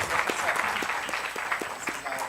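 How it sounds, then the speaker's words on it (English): Audience applause after a panel discussion at the Bhopal Literature and Art Festival, a continuous bed of many people clapping with a few louder individual claps standing out near the front. "we must give them a round of applause for the wonderful discussion that we have had"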